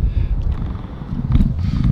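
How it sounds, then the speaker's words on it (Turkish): Wind gusting outdoors during kite flying on roller skates, a steady low rumble of buffeting across the microphone that swells louder in the second half. "Evet, rüzgar geri geldi sayın seyirciler."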